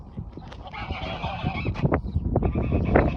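Several geese honk loudly and repeatedly close by, their nasal calls overlapping in a noisy, continuous chatter.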